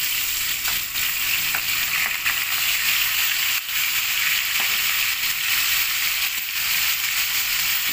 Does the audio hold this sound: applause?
no